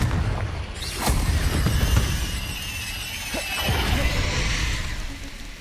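Confringo fire-blast spell from Hogwarts Legacy bursting in a dense game soundscape, a few booming impacts over a steady rumbling background.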